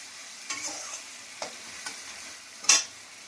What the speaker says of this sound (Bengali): আমি ভালো করে জিরে, আদা এগুলোকে ভালো করে কষে নেবো